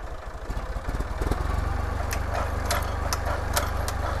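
The small petrol engine of a Kadıoğlu EKO rotary tiller with blade attachment revs up, a steady buzzing drone that rises and holds, with a few sharp clicks over it.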